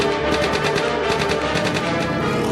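Aircraft machine gun firing upward at an angle over the propeller of an early fighter, a loud, continuous rapid burst of shots that rattles on without a break.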